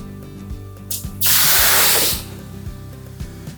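Half a cup of water tossed onto the floor of a hot oven while baking fougasse bread bursts into a loud, sustained steam hiss lasting about a second, set against quieter clanks and kitchen noise.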